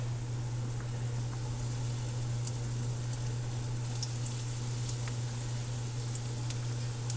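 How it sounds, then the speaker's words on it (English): Homemade battered fish sticks frying in hot oil give a soft, steady sizzle with faint crackles and pops, close by and quiet, joined by a constant low hum throughout, with no talk. "You want it to sizzle, sizzle, fry, fry."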